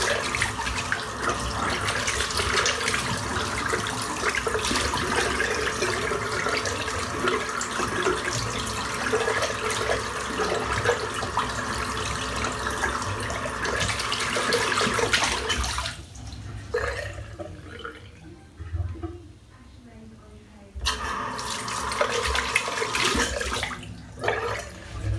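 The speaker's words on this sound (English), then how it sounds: "rinse the soap out" Tap water runs steadily while soap is rinsed off after a shave, a continuous broadband splash that stops briefly near the end and then resumes.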